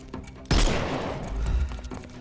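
A sudden loud crack of enemy gunfire in Sherlock Holmes Chapter One, followed by a decaying rumble and scattered thuds, in one short burst.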